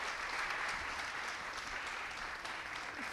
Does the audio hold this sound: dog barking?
no